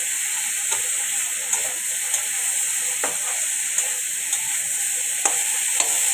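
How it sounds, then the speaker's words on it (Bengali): Food fries in a pan on the stove while rice cooks nearby, giving a steady hiss with small sizzling pops and occasional stirring clicks, close and continuous with no talk. "আর এখানে ফ্রাই হচ্ছে, ফ্রাই করে নিচ্ছি একটু"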